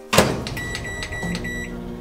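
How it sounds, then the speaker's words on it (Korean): A microwave oven hums steadily while heating a wrapped bowl of rice-flour dough for strawberry mochi, opening with a short clunk, close and continuous with faint tonal whine. "랩을 싸주고 이제 전자레인지에 넣어줄 거예요."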